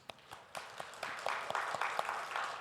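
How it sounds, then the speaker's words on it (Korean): A church congregation applauds during a Sunday worship service, faint scattered claps that thicken into steady applause, heard from a distance in a reverberant room. "수고하라고 박수 한번 보내겠습니다."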